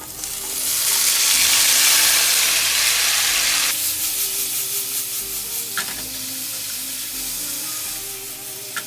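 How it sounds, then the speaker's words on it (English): Brussels sprouts and mushrooms stir-frying in hot oil over medium heat: a loud, close sizzle that swells and then settles, with repeated stirring scrapes and clatters against the pan. "And then you can use the oil to stir fry the vegetable."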